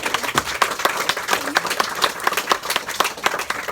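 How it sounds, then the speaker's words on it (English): An audience gives a round of applause for a man named John, with dense, steady clapping that holds at an even level for the whole stretch and no clear talk on top. "One more round of applause for"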